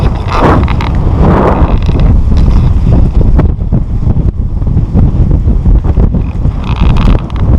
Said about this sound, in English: there's a lot of wind up here